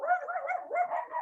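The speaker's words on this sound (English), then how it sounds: "there's dogs down at the campground" Dogs barking at a campground, a short burst of several yapping barks in quick succession, moderately close and clear with no other sound.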